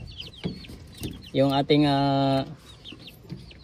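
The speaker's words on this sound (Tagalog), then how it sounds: "This is upgraded native chicken." A heritage-crossbred native chicken gives one loud, drawn-out crowing call on a farm, standing out clearly for about a second amid quieter background clucks and low talk.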